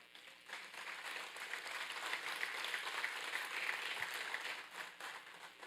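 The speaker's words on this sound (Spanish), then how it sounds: "Un aplauso." A church congregation applauds during an Easter resurrection sermon. The clapping is faint and distant, builds up and holds steady for about five seconds, then fades slightly.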